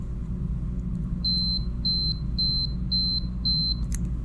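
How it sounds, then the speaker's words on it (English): A camera's battery check with an old battery gives a thin high electronic beep repeating about five times in a slow, slightly uneven rhythm over a low steady hum, ending with a soft click. "this is the sound that the battery check makes with a battery that is pretty old"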